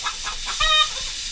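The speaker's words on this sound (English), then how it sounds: "We are feeding chickens right now." Chickens on a farm give a short burst of clucking at feeding time, one brief call rising over a quiet outdoor background.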